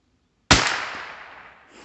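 A single sharp shot from a .350 Legend rifle at an outdoor shooting range in Eastern Kentucky, a loud close crack that rings out and decays over more than a second.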